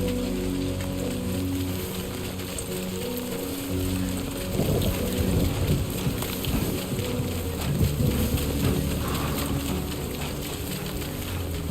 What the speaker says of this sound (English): Oh, the rain ended.